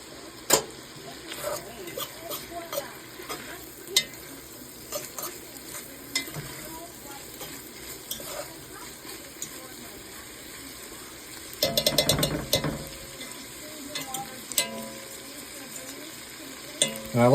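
Cape Verdean jag sautéing in a stoneware pot, a soft steady sizzle with occasional stirring scrapes and clacks, one louder burst of stirring midway; a faint voice talks at times.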